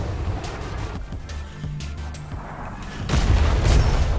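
Cannon fire from a schooner strikes a ship in the sailing video game Atlas, heavy booms and rumbling impacts over creaking and sea noise, with a louder, deeper blast near the end.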